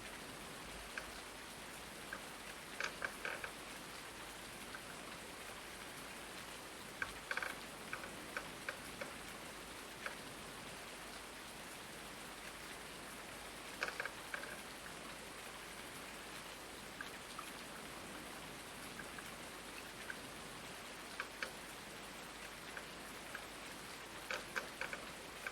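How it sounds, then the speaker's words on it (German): Steady rainfall in the Farming Simulator 19 video game, a soft continuous patter of drops with occasional faint ticking clicks, no voices. "Bei mir regnet es draußen am Fenster und hier regnet es auch."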